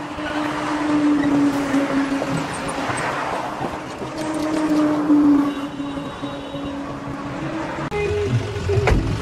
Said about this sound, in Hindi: तो चलो भाई पहले तो गाड़ी निकालते हैं यहाँ से बाहर